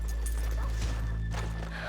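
Horses clip-clop at a walk on a town street in Red Dead Redemption 2, soft hoof thuds under a steady low hum of background noise and music.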